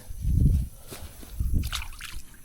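A fish is released back into the water: water splashes and sloshes briefly, a couple of soft plops with trickling, close by and fairly quiet.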